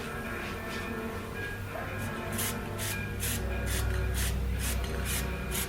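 A spray can lays a light mist of primer paint onto a 1977 Honda Hondamatic motorcycle side panel, producing repeated short hissing bursts close up over a steady room drone.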